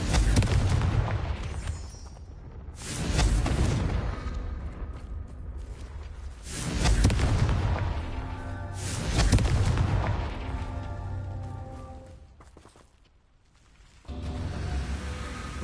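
Confringo blasting spells exploding in Hogwarts Legacy: a series of loud, close booms with rumbling tails, arriving every couple of seconds, then a brief lull before another blast.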